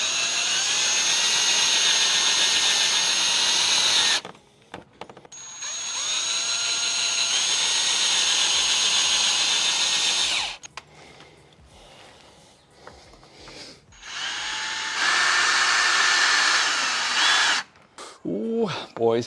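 Power drill driving screws to fit a front lip onto a 2022-or-later Subaru BRZ, loud whining bursts of drilling separated by pauses and quieter handling noises.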